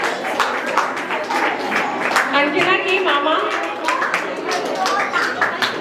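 An audience claps steadily at a Digambar Jain temple cultural program during Daslakshan Parv, dense applause continuing throughout with a voice talking over it and children's voices mixed in.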